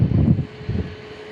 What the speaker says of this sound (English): This aircraft is known as the Queen of the Skies.